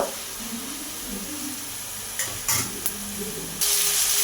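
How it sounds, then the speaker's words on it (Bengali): Hot oil sizzles steadily as shredded potatoes fry, with a few sharp clinks of a utensil and a louder burst of hissing near the end. "এবার বাকি আলুগুলোও তেলের মধ্যে দিয়ে দিয়েছি"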